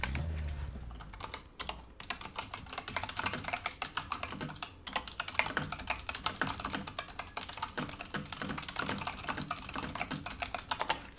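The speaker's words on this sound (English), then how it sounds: "Not the bad typing, the loud typing." Rapid, loud clattering of a computer keyboard, with dense, uneven keystrokes close to the microphone and brief pauses between bursts.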